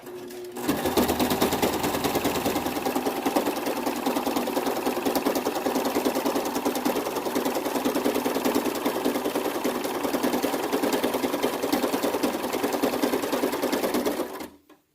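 A sewing machine, run by foot pedal, stitches a fabric face mask in one loud, continuous mechanical whir with a rapid needle chatter that runs about fourteen seconds before cutting off; no one speaks.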